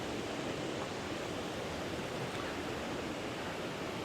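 Water from lifted canal sluice gates pours out in a loud, unbroken roar of rushing flow that stays dense and steady the whole time, with no voices.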